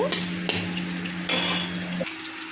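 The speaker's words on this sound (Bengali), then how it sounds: "কুমড়োটাও একটু ভাজা ভাজা করে নিচ্ছি" Pumpkin sizzles and fries in hot oil, with a few clinks of a spoon stirring against the pan.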